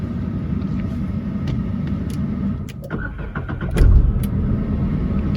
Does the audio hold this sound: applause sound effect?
no